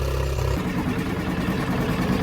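Engine of a Suzuki with an automatic choke idling steadily, a loud close rumbling tick-over that settles after a brief change in pitch near the start, alone without talk.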